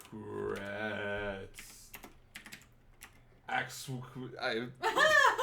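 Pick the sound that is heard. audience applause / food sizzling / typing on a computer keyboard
typing on a computer keyboard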